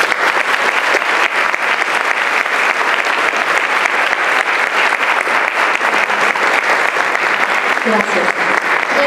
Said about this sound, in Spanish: Un fuerte aplauso para este estudio.